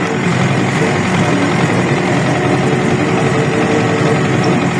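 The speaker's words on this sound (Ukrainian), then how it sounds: "Комбайн їде." A loud, steady combine harvester engine rumbles continuously with a heavy low drone and mechanical vibration, close by, no voices, during sunflower harvest.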